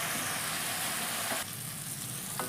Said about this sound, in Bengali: এবার এই টমেটোটা দিয়ে বন্ধুরা গ্যাসটা একটু কমিয়ে সুন্দরভাবে ভেজে নিতে হবে।